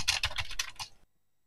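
Quick burst of about five clacky keystrokes on a Commodore 64 computer keyboard, close and distinct, lasting about a second before cutting off to silence.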